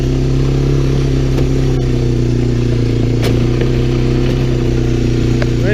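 Honda Fourtrax 300 ATV engine pushing a snow plow up a driveway, running loud and steady at a constant throttle with a continuous low drone and light clatter throughout.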